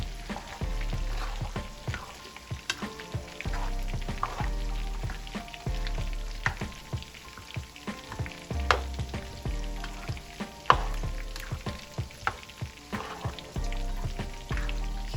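Low-sodium tomato sauce sizzles steadily in a hot pan while being stirred, a dense crackling hiss with scattered spatula scrapes and taps throughout, close and without voices.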